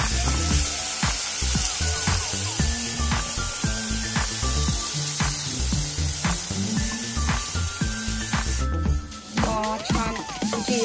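Green chili and ground coconut sizzling in hot ghee with cumin, a steady crackling fry with occasional spoon scrapes and clinks throughout.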